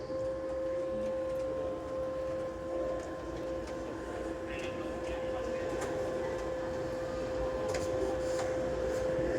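A Concorde's droop nose being raised to the supersonic position at Duxford produces a steady mechanical whine with a sustained tonal hum over a constant background drone, moderately faint and unbroken.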